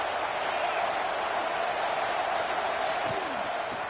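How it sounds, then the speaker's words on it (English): A college football stadium crowd roars in a dense, steady wash of cheering during a big third-down defensive stand against Clemson, loud and sustained throughout the few seconds, with a commentator's voice running over it. "Big 3rd down as the crowd gets behind this defense."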